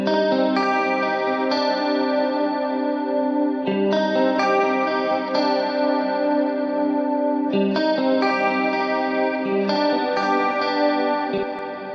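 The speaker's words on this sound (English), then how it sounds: "Now we have the Eventide Black Hole, which is an ambient modulated long reverb." Sustained guitar chords bloom through an Eventide Black Hole ambient modulated long reverb, each new strum swelling into a long shimmering wash that overlaps the last, clean and fairly loud with no talking.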